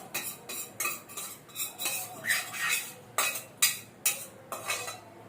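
A metal spoon clinks and scrapes against a pot in a rhythmic run of about a dozen strokes as cooked toor dal is added and mixed in, close and fairly quiet.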